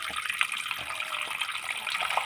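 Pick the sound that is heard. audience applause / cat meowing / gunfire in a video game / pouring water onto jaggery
pouring water onto jaggery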